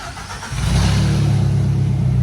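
A Tata CNG vehicle engine with a fault that keeps it from accelerating revs up from idle after about half a second. It then holds a steady, loud, droning rev without climbing further, with no talk.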